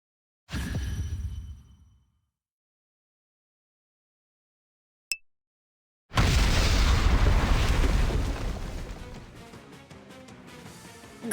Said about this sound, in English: Well, I guess we explode now.